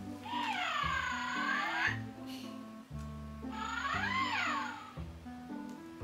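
A small purple Pygmy Puff plush toy gives two long, warbling purr-like electronic calls, each rising and falling over a steady low hum, close and fairly soft.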